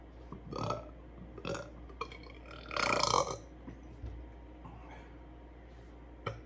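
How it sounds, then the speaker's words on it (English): A person burps several times after drinking a bitter, hoppy Pontoon Brewing beer, with short croaky belches and one longer, louder drawn-out burp in the middle, close to the microphone. "That burp staying on there. That was a good one."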